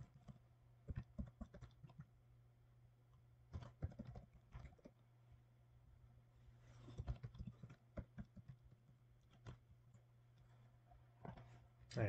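Username typed on a computer keyboard, bursts of quiet rapid key clicks separated by pauses, heard close over a low steady hum.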